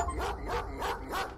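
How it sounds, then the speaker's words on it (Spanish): A dog barks outside in a steady run of four loud, evenly spaced barks, alone with no talking over it. "Hay un perro afuera"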